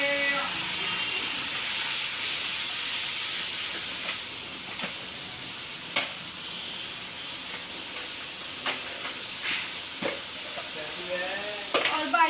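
Vegetable masala with grated tomatoes cooking in a pan at home, a steady close sizzle and hiss running throughout with occasional stirring clinks of a spoon against the pan.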